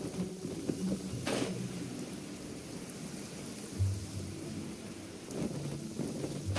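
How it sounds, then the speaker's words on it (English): Rain and thunder in the video game Genshin Impact: a steady hiss of rainfall with a few low, muffled rumbles of thunder rolling underneath, heard alone. "Rain. My hair and feathers are gonna get soaked."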